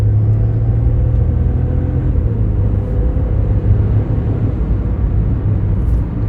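A Skoda Fabia Monte Carlo on 18-inch wheels drives along with a steady low engine rumble and road noise, continuous and close, with no talking.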